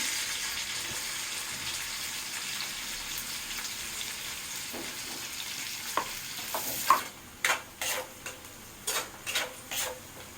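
Onions and green chillies frying in oil for egg fried rice, a steady hiss of sizzling that gives way to a run of sharp spatula scrapes and clacks against the pan.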